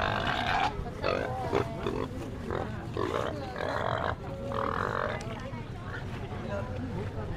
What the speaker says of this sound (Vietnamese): Ồ đây có con lợn to này các bạn này. Con này lợn thịt to.